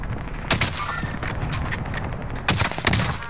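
Video game gunfire, sharp loud shots in short bursts with a few separate cracks standing out, heard over steady background game noise.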